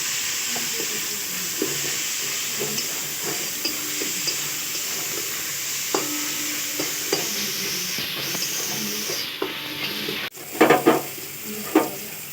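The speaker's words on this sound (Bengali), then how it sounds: "ছোট চামচের হাফ চামচ ধনে গুঁড়ো দিল দিয়ে এটা ভালো করে আমি কষিয়ে নেব" Cumin and coriander powder sizzle and fry in a pan for ghugni, with a steady close hiss broken by repeated scrapes and taps of a spoon, then louder clattering stirs near the end; no talking.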